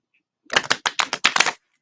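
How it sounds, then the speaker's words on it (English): A deck of cards is shuffled up close in quiet surroundings, a quick run of crisp riffling bursts with short gaps between them, lasting about a second with no talking. "I'm gonna shuffle them one more time."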